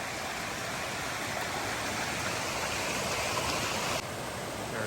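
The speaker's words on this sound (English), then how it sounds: "This is the most impressive waterfall so far on the climb up to Cheoah Bald." A waterfall on a hiking trail up toward Cheoah Bald roars in a dense, continuous rush of falling water, loud and close, with no other sounds over it.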